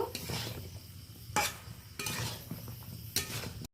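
Shrimp, potato and ridge gourd being stir-fried with spices in a pan, heard as several sharp clinks and scrapes of a utensil against the pan at spaced intervals, fairly close, with soft cooking noise between.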